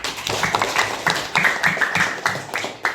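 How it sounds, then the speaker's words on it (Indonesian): A small group of students claps in a classroom in a brisk, uneven burst of applause lasting a few seconds, fairly close and loud. "tepuk tangan untuk kelompok 1"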